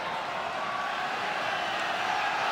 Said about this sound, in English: The crowd loves it, don't they? They come along to cheer the Burton kicks